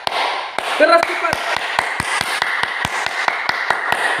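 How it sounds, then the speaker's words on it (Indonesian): Fast, steady hand clapping, about four claps per second, fairly close, with a voice talking over it. "Tepuk tangan."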